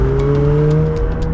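A 2021 McLaren 720S mid-engine supercar's engine and exhaust drone loudly and steadily, a smooth sustained tone with a slight pitch shift near the end.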